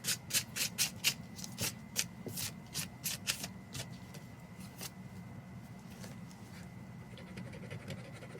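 A metallic transfer foil is rubbed onto planner sticker paper with light pressure, giving a run of close, dry, scratchy strokes in a quick irregular rhythm over a steady low hum.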